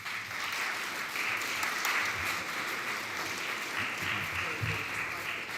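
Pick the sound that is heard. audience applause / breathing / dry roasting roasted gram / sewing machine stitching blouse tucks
audience applause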